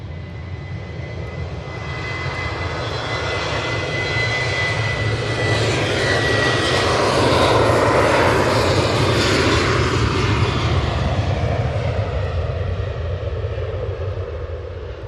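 An Airbus A350 jet airliner passes overhead with a loud, steady broadband engine roar that swells toward the middle and eases off, wind rushing in the background.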